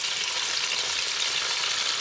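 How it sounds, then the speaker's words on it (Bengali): Chicken roast pieces fry in hot oil with a steady, dense sizzle that runs close and loud without a break, and no voices are heard. "ভেজে নিব তেলে।"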